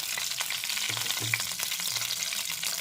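Ginger and green chilli paste frying in a pan for cauliflower rezala, a steady close hiss and sizzle with faint stirring scrapes, continuous and without speech.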